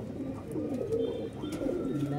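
Pigeons coo softly nearby in low, throaty warbles, with faint background voices and some rustling.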